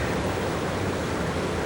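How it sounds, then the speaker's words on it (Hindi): A waterfall pours in a steady, dense rush of broadband noise, loud and unbroken for the whole moment, with no voices over it. "यार ये झरना तो बहुत डरावना"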